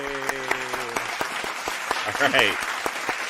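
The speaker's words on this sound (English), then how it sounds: "Let's get a round of applause." An audience at a live show claps in a brisk scattering of hand claps, close and clear, while a host speaks and whoops over the clapping.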